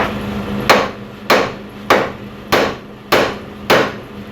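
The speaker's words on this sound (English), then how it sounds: "Hit it with a hammer." Six sharp metallic hammer strikes on a pickle fork during a 1996-2000 Honda Accord transmission replacement land at a steady, evenly spaced rhythm, each ringing briefly before the next blow, with no talking.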